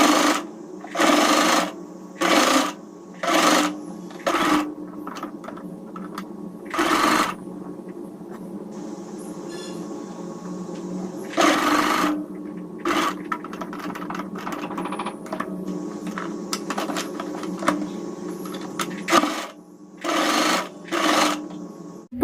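Sewing machine stitching a V-neck blouse, running in repeated short bursts of rapid whirring, with quiet handling and fabric shuffling between runs and a longer, broken stretch of stitching in the middle.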